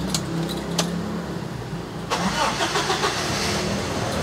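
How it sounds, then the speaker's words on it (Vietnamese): A 2007 Toyota Innova G engine cranks briefly and catches near the two-second mark, then settles into a steady close idle with a faint jangle of keys beforehand. "Lắc nhẹ đã nổ máy rồi nha anh em."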